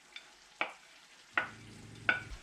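Courgette and peperonata vegetables being stirred in a pan, a few separate scraping strokes with a soft sizzle underneath, close and fairly quiet.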